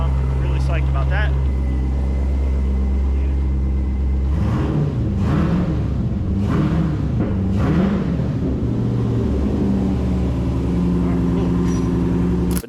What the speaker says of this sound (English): So, engine's running, really psyched about that.